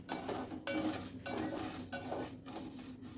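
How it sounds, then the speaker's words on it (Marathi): Flaxseed roasting in a pan on a stove, a utensil scraping and stirring against metal in repeated strokes over a soft hiss of toasting seeds, close and alone. "जवसाला जास्त वेळ लागत नाही भाजायला तीन मिनटात झाले जवस आपले छानपैकी भाजून"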